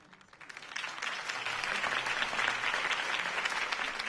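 Crowd applause for Harvey Dent's campaign speech in a Batman game, rising from quiet into steady, dense clapping that holds loud and continuous throughout.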